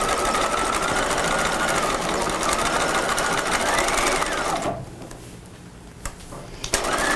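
A sewing machine runs fast and continuously, stitching a seam on a cropped retro jacket, then drops to a quieter pause with a couple of short clicks and bursts.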